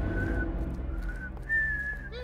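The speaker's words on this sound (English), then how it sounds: "do you have to whistle?" A person whistles a few thin, wavering sustained notes in a tense animated scene, faint and unsteady over a low rumbling background with no talk.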